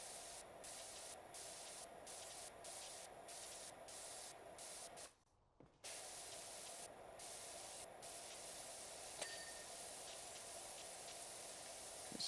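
A pressure washer sprays steadily while cleaning a removal van truck in the video game PowerWash Simulator 2, a continuous loud hiss broken by one brief pause, with no talking.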